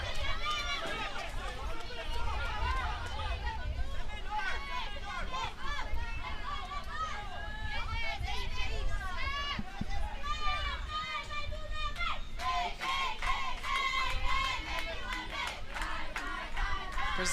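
Brazil's senior league softball team cheers and chants from the dugout, a steady crowd of voices shouting and singing together throughout, with rhythmic bursts and some loud peaks toward the end.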